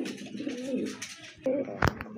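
Large pigeons coo in a short, soft burst of throaty warbles, close by, followed by a quick flutter-like scrape.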